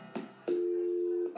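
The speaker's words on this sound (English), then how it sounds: "Alright, we're ringing." A telephone in the video game You Don't Know Jack sounds two short clicks, then a single steady electronic ring tone that holds for most of a second, with no talk.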